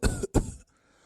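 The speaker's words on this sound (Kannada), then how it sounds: "ಓ, ಎಂಥ ಕೆಮ್ಮು ಶುರು ಆಯ್ತಲ್ಲ ಇವರಿಗೆ" Two short, loud coughs from an elderly cartoon grandfather in a Kundapura Kannada animation, the second harsher than the first. Quiet follows them.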